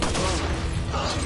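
A magnum handgun shot in Resident Evil 4, a loud dense blast with a rumbling tail filling the short moment, surrounded by game noise.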